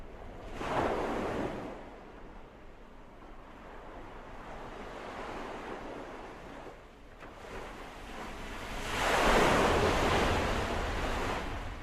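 Sea waves breaking on the Tyrrhenian Sea coast of Lazio, Italy, a broad surf wash that swells early, eases into a steady roar, then surges again near the end, with some wind rumble and no voices.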